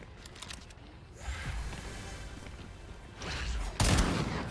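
Gunfire in the video game Fortnite, with bursts of rapid shots and booming blasts that come in waves and swell louder near the end, heard without talk.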